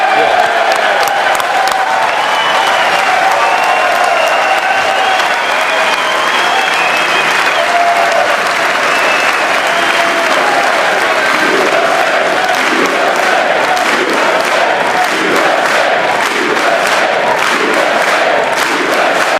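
A large crowd at a political rally cheers, applauds and chants USA in a steady, dense roar that stays loud and continuous throughout, with no single voice standing out.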